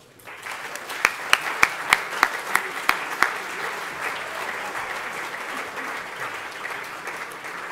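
An audience at a foundation grant ceremony claps, starting with a run of distinct, evenly spaced loud claps that soon blend into a sustained, fuller round of applause.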